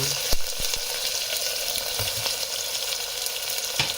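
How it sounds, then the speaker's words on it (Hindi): Onions fry in hot oil inside a pressure cooker, giving a loud, continuous crackling sizzle with a few sharp pops and spatters close by, without any speech. "ऑयल गर्म हो चुका है तो मैं पहले इसमें प्याज डाल रही हूँ"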